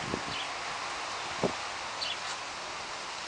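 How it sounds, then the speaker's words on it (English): Wind blows outdoors as a faint, steady rustling hiss with a couple of soft bumps, no voices. "And there's wind."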